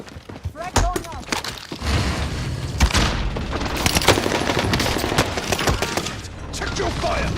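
Gunfire in Call of Duty Warzone, with bursts of rapid automatic shots, single cracks and explosive booms layered close and loud, while players talk over the action.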